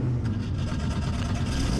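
A Formula Vee race car pulls away from a standstill, its engine droning low and steady at a moderate distance, fairly quiet and unbroken over the short stretch with no voices.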